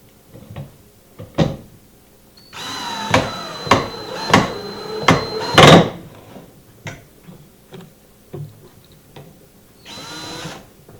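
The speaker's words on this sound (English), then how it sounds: "now we can tighten up and put in those last two screws on the other side" Screws are driven into a wooden Cricket rigid heddle loom frame, giving a whirring power-driver burst with several clicks and knocks, then a shorter whir near the end amid scattered taps.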